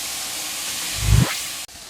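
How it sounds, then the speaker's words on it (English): A steady, loud hiss of chicken sizzling over open flames on a hot grill, with a brief low rumble swelling in the middle, then the hiss carries on. "Haha, love that sizzle."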